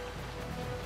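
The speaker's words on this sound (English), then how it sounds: "Instead of being like a wasteland, we have like rain." Steady rain hisses in Final Fantasy XII The Zodiac Age, an even, continuous wash of falling water across a brief moment, with no voices.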